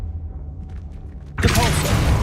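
A Confringo blasting spell in the video game Hogwarts Legacy erupts suddenly after a quiet stretch, a loud fiery burst that keeps rumbling and crackling to the end.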